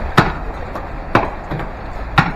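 A tree branch takes three evenly spaced heavy chopping blows outdoors, each a loud close thwack over a steady background rumble, with a softer knock between.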